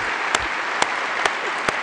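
Audience at an annual meeting luncheon clapping steadily in a large room, a dense even wash of applause with a few sharper individual claps standing out.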